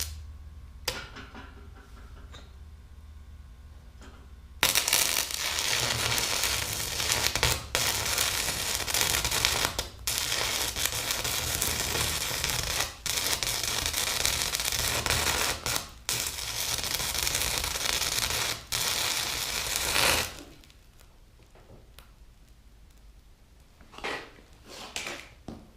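Stick welder cutting metal, a loud sustained crackling hiss for about fifteen seconds, then quieter sporadic crackles and taps as the arc stops.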